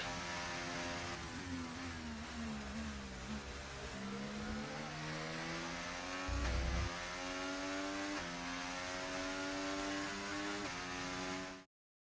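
An F1 race car in the F1 24 video game at the Hungarian circuit drives steadily, its high-pitched engine note rising and falling through gear changes for several seconds before cutting off abruptly.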